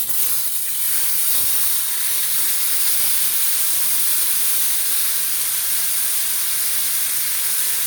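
Fish frying in hot coconut oil makes a loud, dense, unbroken hiss up close, with no voices.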